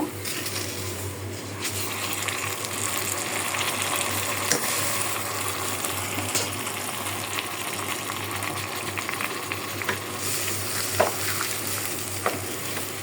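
Pulao rice being fried and stirred into spice paste in a pan, a steady low sizzle with soft scraping strokes and occasional light clinks, continuous and close.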